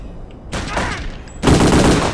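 Gunfire in the video game Return to Castle Wolfenstein comes as two loud, close bursts of rapid automatic fire, the second stronger and longer, separated by a short gap.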